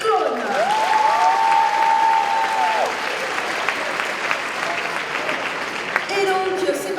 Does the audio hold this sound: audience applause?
yes